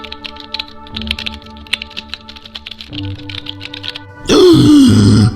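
Rapid clicking keystrokes patter on a computer keyboard for several seconds over a steady background hum, then a loud burst of game sound abruptly takes over.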